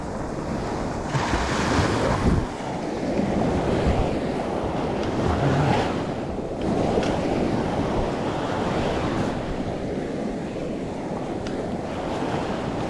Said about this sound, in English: Waves filled in my hole for me pretty good.